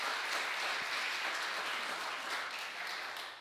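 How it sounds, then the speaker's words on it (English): Audience at a forum on sex trafficking applauding, a dense, even wash of clapping from many hands that holds steady for a few seconds and tapers slightly at the end. "So we can give them a round of applause."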